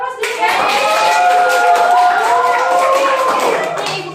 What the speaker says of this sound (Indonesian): Oh iya, tepat sekali, kasih aplaus dulu ya.